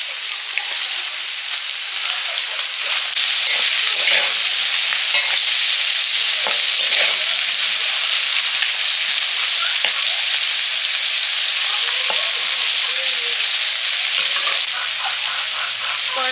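Ridge gourd and other vegetables being stirred and fried in a pan, with a loud continuous sizzle and frequent scraping stirs that run through the whole stretch, no talk.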